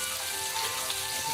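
Steak frying in a pan on the stove gives a steady, close hiss and crackle of sizzling, unbroken and with no talk.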